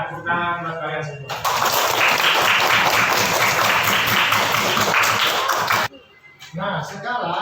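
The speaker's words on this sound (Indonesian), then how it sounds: "tepuk tangan buat kalian semua." Schoolchildren in a classroom clap together in a loud, dense burst lasting several seconds, with an adult voice speaking just before and after the applause.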